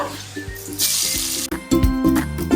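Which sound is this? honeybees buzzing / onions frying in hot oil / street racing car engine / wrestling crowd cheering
onions frying in hot oil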